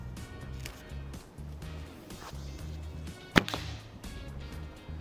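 An arrow shot at a target, one sharp impact thwack midway standing out over a steady low humming background, no voices.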